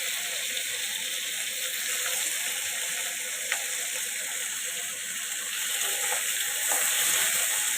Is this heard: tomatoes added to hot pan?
yes